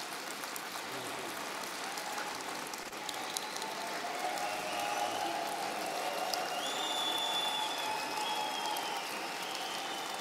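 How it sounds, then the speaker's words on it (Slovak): Sustained applause from an audience at an annual event gathering, a dense, steady patter of many hands clapping throughout, with faint higher-pitched whistles and cheers rising toward the end. "Pre vás, ten potlesk je pre vás."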